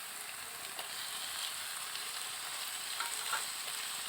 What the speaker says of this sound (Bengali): দিয়ে দেব অল্প কিছু টমেটো কুচি